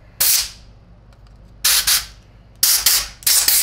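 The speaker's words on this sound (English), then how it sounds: "I'm just gonna get it blowing off a little bit with compressed air" Compressed air blasts over parts of a Miele C2 vacuum cleaner in four short, loud hissing bursts, the last two close together, with quiet gaps between.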